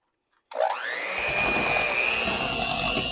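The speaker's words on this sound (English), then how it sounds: "take a hand mixer, and you want to beat the butter until it is creamy and a little bit fluffy" An electric hand mixer starts up abruptly and whirs at a steady high pitch while beating butter for oatmeal cookies, close and loud, running continuously with no talking.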